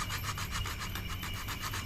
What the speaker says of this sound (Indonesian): Pertama pakai amplas yang kasar